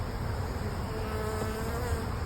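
Honey bees hum in a dense, steady drone around an open hive, close and continuous with no voices.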